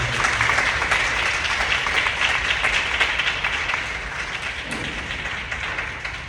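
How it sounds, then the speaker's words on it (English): Staff and parents applaud young people at a middle school honor roll assembly, a dense, steady wash of clapping filling a hall that holds loud for several seconds before tapering slightly toward the end. "Can I have our staff and our parents just clap it up again for our young people?"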